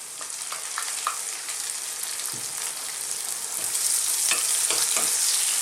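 Chopped onion fries in a pan with a dense, steady hiss that swells a little louder toward the end, dotted with light pops and scrapes of stirring, cooking for sipo eggs; no voices.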